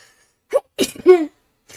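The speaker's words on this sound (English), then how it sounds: "I have a sneeze coming." A single short sneeze close to the mic, with a quick breath before it and a brief voiced sound after, in an otherwise quiet room.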